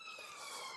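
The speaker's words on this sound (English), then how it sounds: "There's sirens." Emergency sirens sound outside, faint and distant, as a brief wailing tone behind a quiet indoor room with no talking.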